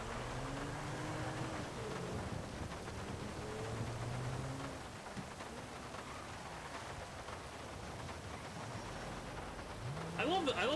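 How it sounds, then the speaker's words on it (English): Virtual rain patters steadily on a rooftop in Grand Theft Auto V, a constant soft wash of drops that runs under droning vehicle engine tones, growing slightly louder at the end. "I love the sound of the rain hitting the rooftop."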